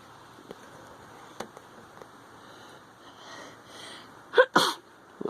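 A small wild critter injured by a lawnmower gives a pair of quick, sharp sneezes near the end, close and fairly loud against a quiet background with faint rustling.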